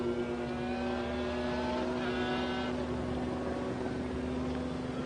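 Two McLaren race cars running side by side down the Hunaudières straight at the 1995 Le Mans 24 Hours, a sustained high engine drone with rising and shifting tones, no voices.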